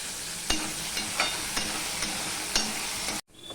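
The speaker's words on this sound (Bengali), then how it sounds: "দেখো আলুটা ভাজা হয়ে গেছে।" Potato slices frying in hot oil give a steady, close sizzle, broken by a sharp stirring scrape roughly every half second. The sound cuts off abruptly just before the end.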